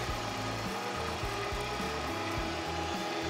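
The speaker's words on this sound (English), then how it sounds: "So once this grinder gets going, it goes by really quick." A meat grinder working through meat and green chilies for sausage, a close, steady mechanical whirring with rhythmic ratcheting clicks throughout and no talk.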